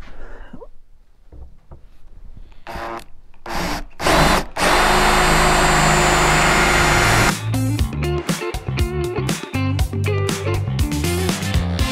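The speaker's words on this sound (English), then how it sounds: "We've got our hole drilled through to both sides." Power drill boring a hole through a part on a 2006 Mastercraft Maristar boat during exhaust work, a loud sustained whine after scattered knocks and clamping clatter, then bursts of handling clanks.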